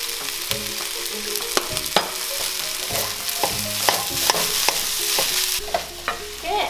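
Pineapple fried rice seasoned with salt and white pepper is stir-fried hard in a pan, producing a constant bright sizzle under rapid, repeated spatula scrapes and taps, up close and loud, with no voices.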